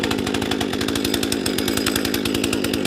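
A small 42cc Poulan Pro gas chainsaw engine idling loudly and steadily after a crankshaft replacement, its rapid regular firing pulses filling the whole clip.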